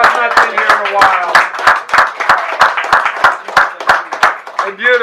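Audience clapping welcomes a singer named Nicole at a church gathering, steady scattered hand claps from a moderate crowd running throughout, with speech and voices mixed in over the applause.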